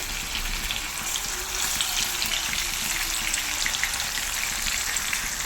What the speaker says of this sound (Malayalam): നല്ലപോലെ ചൂടായ ഓയിലിനകത്തോട്ട് ഞാനിവിടെ മീൻ ഇട്ടിട്ടുണ്ട്.